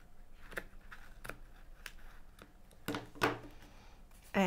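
Scissors snipping through yarn loops on the back of a small woven coaster, a series of crisp, separate cuts spaced out over a few seconds, close up and quiet, ending in a louder snip.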